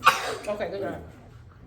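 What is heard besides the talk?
child sneezing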